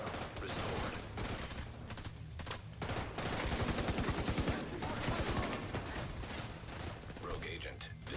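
Minigun fire in The Division 2, a dense, rapid stream of loud shots rattling on almost continuously, with other gunfire, mechanical clatter and game voices in the mix.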